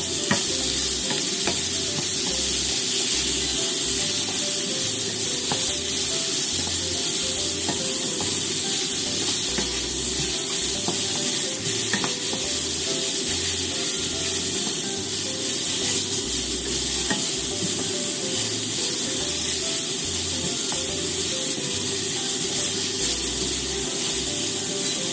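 New onions are stir-fried in a pan, a loud, steady close sizzle with hissing steam and continuous stirring scrapes, unbroken for the whole stretch with no talking.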